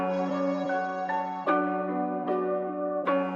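Cloned, pitched and time-stretched piano sample in a beat: held piano chords with a steady low note, fresh attacks every 0.7 to 0.8 seconds, the notes shifting in pitch, playing alone at moderate loudness.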